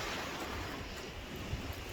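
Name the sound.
waves on beach while walking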